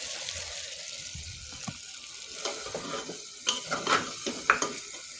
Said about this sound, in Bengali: চুলার আঁচটা একদম লো মিডিয়াম দিয়ে নাড়াচাড়া করে নিলাম